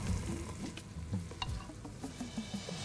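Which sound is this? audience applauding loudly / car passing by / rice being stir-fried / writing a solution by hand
rice being stir-fried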